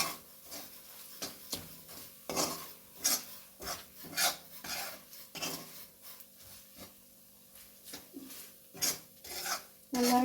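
Chili powder frying in a pan for ginger curry, stirred with a utensil in uneven scraping strokes, soft and close, with short pauses between stirs.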